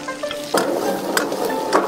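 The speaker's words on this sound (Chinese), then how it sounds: "牛肉焯好水以后，捞出来就准备可以炒了" Blanched beef is stir-fried in a hot wok, giving a close, steady sizzle with scraping stirs of the spatula repeating about every half second.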